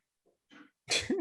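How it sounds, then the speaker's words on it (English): A short breathy inhale, then a quick forced burst like a stifled sneeze, close up, with silence between the sounds. "I'm trying to sneeze."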